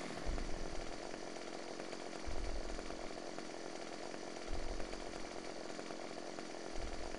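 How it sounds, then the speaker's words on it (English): A chainsaw rips through a tree in the logging game Farming Simulator 15, a steady high mechanical whine running throughout with low surges near 2.3, 4.6 and 6.9 seconds as the blade bites in. "This time we're going to angle the chainsaw if I can."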